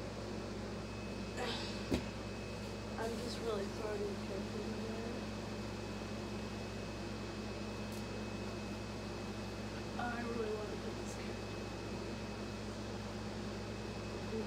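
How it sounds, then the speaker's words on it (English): Home air conditioning hums steadily through the whole stretch as a constant low drone, sitting beneath a person talking over a game in the foreground. "if you hear something in the background, it's my air conditioning."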